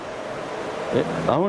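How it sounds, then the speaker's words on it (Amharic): Strong water rushes through Sof Omar cave in Bale, Oromia, swollen by rain from above. It makes a steady, close roar throughout, and someone speaks briefly over it near the end. "አሁን ውሃው ኃይል አለ ዝናብ ከላይ ስለአለ በጣም ይከብዳል"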